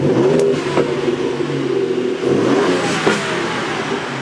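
A second-generation Ford Raptor 3.5 EcoBoost turbo engine with an aftermarket AWE exhaust revs close by with a rising turbo whine and rumble, surging a couple of times and falling back, with no one speaking.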